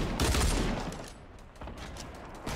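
Rapid gunfire in Fortnite, a dense burst of close, loud shots rattling out continuously with a brief lull before resuming.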